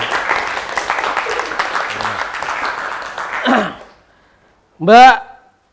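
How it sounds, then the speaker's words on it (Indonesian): Classmates clap for a student in a classroom, a busy patter of hands lasting about three seconds before fading, followed by a short pause and a brief voice. "Ya, tepuk tangan buat Mas Agung"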